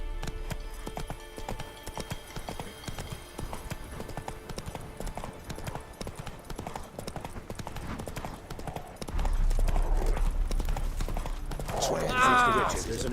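Roach, a horse in The Witcher 3, gallops with steady clip-clop hoofbeats throughout, joined near the end by a louder rumble and a brief whinny-like cry, with a voice speaking over it.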